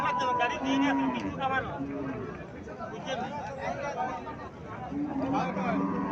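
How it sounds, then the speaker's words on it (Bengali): A local dairy cow at a village cattle market in Comilla lows several times amid a crowd, the moos moderately close and mixed with a steady hum of voices and people talking. "এখানে আরো একটা গাভী দেখা যাচ্ছে"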